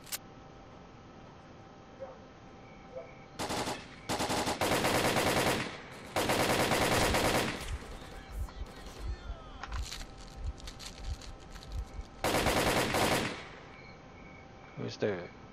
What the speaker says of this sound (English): Who's the crackpot shooting me in the back?